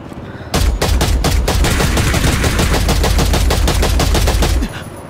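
Gunfire in the Ring of Elysium video game: a loud, sustained volley of rapid automatic shots lasting several seconds, densely packed and close, then stopping suddenly.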